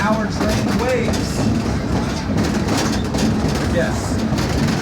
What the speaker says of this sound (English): Our train is big, our train is heavy, and our train is loud.